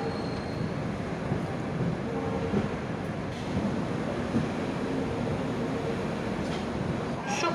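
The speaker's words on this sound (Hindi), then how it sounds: "हम लोग की ट्रेन पहुंच चुकी है खड़गपुर जंक्शन" Chennai Mail Express pulling into Kharagpur Junction on the Howrah to Chennai Central run, a steady loud rumble of rolling coaches heard from on board, with a continuous broadband roar and faint murmuring voices underneath.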